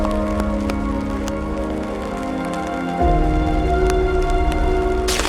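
Rain falls among tall redwood trees, a dense steady patter with scattered sharper drops, continuous and close, with a low rumble shifting partway through and no voices.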